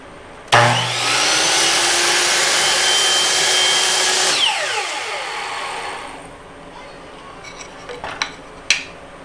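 A power saw cuts a small wooden stair trim piece: a loud close whine starts abruptly, holds for about four seconds, then spins down, followed by a few light knocks.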